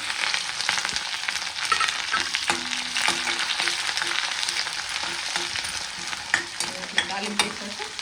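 Green chilli, onion, curry leaves and tempering seeds fry in hot oil in a pan, giving a steady loud sizzle with scraping stirs and small pops throughout.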